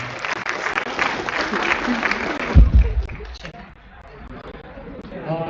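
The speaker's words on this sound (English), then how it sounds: "A big round of applause to our keynote of the day" Audience applause for the keynote speaker at an IEEE conference, a broad wash of clapping mixed with crowd chatter and a voice speaking over it, with a brief thump midway before the clapping fades down.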